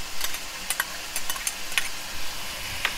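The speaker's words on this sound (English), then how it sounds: "I'm just gonna fry." Tomato and pepper fry in a pan for a Caribbean butter fish stew, giving a steady soft sizzle close to the microphone, broken by occasional sharp ticks and stirring clatter, with no talking.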